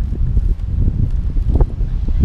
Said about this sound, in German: Warten wir kurz den Wind ab.